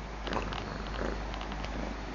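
A cat purrs close up, a soft, steady rumbling that continues throughout with slight rhythmic swells.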